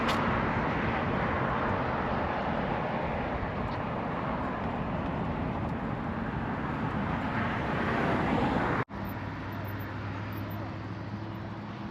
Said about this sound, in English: If you could hear that with all the free cars going up and down the road.